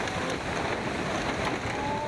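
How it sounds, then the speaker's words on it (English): Powerful tsunami waves from the March 2011 Japan earthquake surge as a dense, loud, unbroken roar of rushing water with wind-like buffeting, with no voices. "Powerful waves destroy everything in their path."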